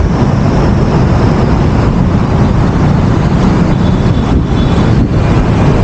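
Strong wind roars steadily and loudly against the microphone on a cold, dark early-morning motorcycle ride along EDSA on the way to Tagaytay, a continuous dense rush with no voices.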